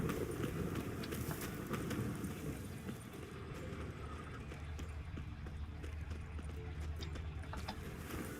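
Horse hooves clip-clop at a steady walking pace in The Witcher 3, a purebred warhorse moving over ground amid a dense ambient game soundscape, hoofbeats moderately close and continuous.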